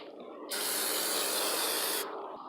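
A Plasti Dip aerosol can sprays BMX bike parts in one loud, steady hiss lasting about a second and a half, with quieter room noise before and after.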